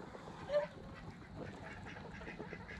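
Guinea fowl outdoors give one short, faint call early on, then only low background noise follows.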